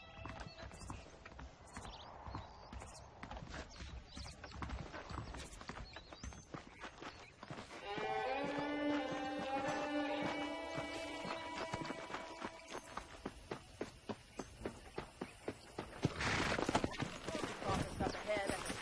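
Horse hooves clip-clopping in the video game Red Dead Redemption: a rhythmic stream of hoofbeats with a whinny partway through, under game voices and music.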